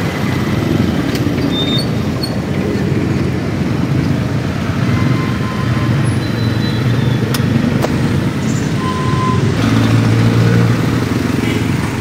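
Early-morning street traffic of trucks and cars in the Philippines makes a loud, steady rumbling wash of engines and tyres that carries on without a break.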